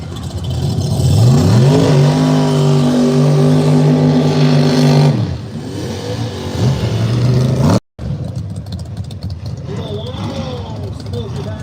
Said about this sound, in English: Smoky burnout for Bill Horton.